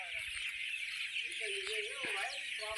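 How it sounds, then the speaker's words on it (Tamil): Flocks of birds gathering at evening to roost in coconut palms near a village tank make a dense, steady high chatter, with a few louder individual calls and a voice speaking underneath. "தென்னை மரத்தில் அடையிறதுக்காக கூட்டம் கூட்டமாக வரும் பறவைகள்லாம்."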